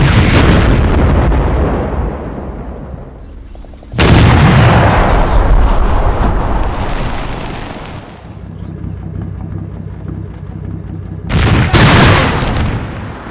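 Artillery shells burst in a Combat Mission battle, heavy booming explosions at about 0, 4 and 11 seconds, each loud and close with long rumbling decays between them.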